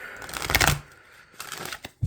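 Tarot cards being shuffled by hand, with two quick riffling bursts near and fairly loud, separated by a short pause, and a soft thump at the end.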